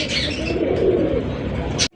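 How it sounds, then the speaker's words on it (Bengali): Steady low cooing and murmuring of many White Grizzle racing pigeons, continuous and fairly close, with a brief rustle near the end. "হোয়াইট গ্রিজেল রেসার কবুতর"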